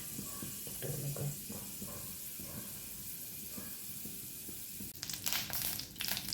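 Onions hit hot oil for chena leaf thoran, a Kerala dish made with yam leaves. After a few seconds of quiet kitchen noise, a sudden crackling hiss breaks out and keeps sizzling in faint bursts.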